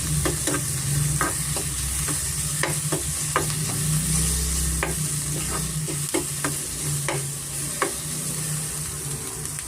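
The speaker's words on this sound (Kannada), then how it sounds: "ಮೀಡಿಯಂ ಫ್ಲೇಮಲ್ಲಿ ನಾವು ಚೆನ್ನಾಗಿ ಫ್ರೈ ಮಾಡ್ಕೋಬೇಕಾಗುತ್ತೆ" Onions frying with garlic paste on a medium flame for palak chana curry, a continuous loud sizzle punctuated by frequent sharp scrapes and taps of a spoon stirring in the pan, with no one speaking.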